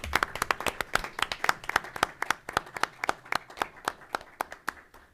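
A small group claps at a county board of elections meeting, a steady run of sharp individual hand claps for about five seconds, close and fairly loud, with no talk over it.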